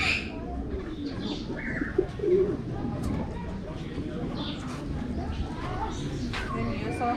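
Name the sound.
pigeon cooing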